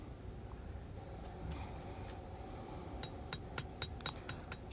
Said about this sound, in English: And hammer in the transition.